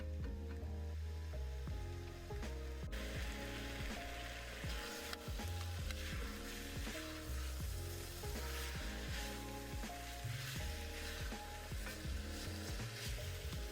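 Pork belly frying in a pan for adobo while being stirred, a steady loud sizzle with repeated scraping and stirring knocks running throughout.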